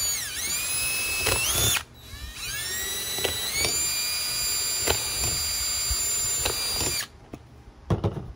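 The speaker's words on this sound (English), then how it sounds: "I drilled some holes in the cap." A small power drill bores holes through a plastic bottle cap in several high whining bursts with short pauses between. The motor rises and falls, loud and close, and ends with a few brief clicks.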